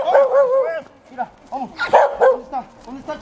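During a security training search exercise a working dog barks and yips among loud shouted commands from a handler, the barks mixed under and between the speech.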